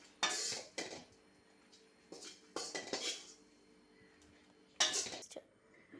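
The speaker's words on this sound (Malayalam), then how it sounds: "ഇത് നമുക്ക് ഒരു പ്ലേറ്റിലേക്ക് മാറ്റാം" Sautéed chicken curry mixture being scraped from a pan onto a plate, with several close metallic clinks and scrapes of a spoon against cookware in a quiet kitchen.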